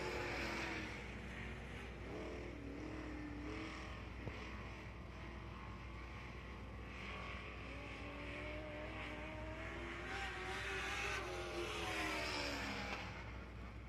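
Dirt-track race cars run laps at Dixieland Speedway under green, engines droning steadily with rising and falling pitch as the pack passes, fairly distant and continuous with no talk.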